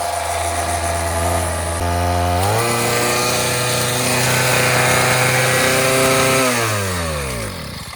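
A worn-out, clapped-out pocket bike engine runs loud and close with a raspy, buzzing note. It revs up, holds high, then drops back toward idle near the end, with no talking.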